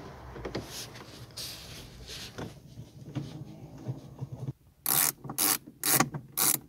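Screws coming out of a Chevrolet Celta instrument panel give a soft mechanical rubbing and ratcheting, followed by four loud, close bursts of fast ratchet clicking near the end.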